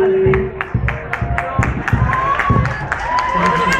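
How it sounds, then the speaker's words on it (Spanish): An audience claps after a live song performance, a scattered round of applause with individual claps near and distinct, while voices talk over it. "Un fuerte aplauso."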